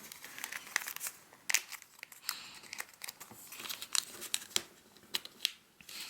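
Paper being folded for a bat origami, heard up close as repeated crisp crinkles, creases and rustling snaps in an irregular rhythm, quiet and with no voice over it.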